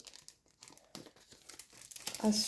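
A pack of patterned craft paper is opened by hand, with close, soft crinkling and rustling that grows into louder tearing and crumpling toward the end.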